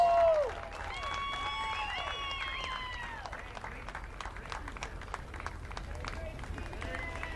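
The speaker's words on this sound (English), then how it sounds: "Let's give a big round of applause for the 2025 champions, UT Tyler Patriots." A stadium crowd applauds and cheers the UT Tyler Patriots, 2025 NCAA Division II softball champions, at Frost Stadium: steady dense clapping with scattered whistles and shouts that carries on throughout after the opening moment.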